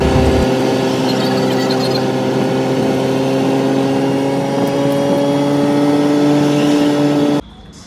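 Auto rickshaw engine droning steadily while riding to a village wedding procession, a loud, constant close-up hum with a clear engine tone that cuts off abruptly near the end.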